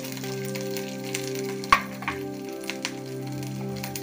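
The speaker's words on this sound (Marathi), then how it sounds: "आल्याचे तुकडे आणि मिरची। हे थोडंसं हलवून घ्यायचं" Ginger pieces and green chillies are stirred in a frying pan for homemade green chilli sauce, a light continuous sizzle broken by a sharp utensil knock and a few soft scraping taps. Background music plays underneath and no one speaks.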